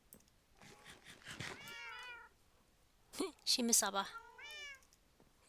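A Minecraft cat meows several times in quick bursts, close and clear, with a person talking in between the meows.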